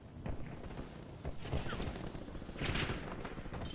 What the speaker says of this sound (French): J'ai reçu des tirs.